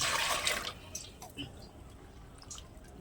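Goat head meat being washed in a pot of water, with sloshing splashes and drips close by, the strongest at the start and softer drips after.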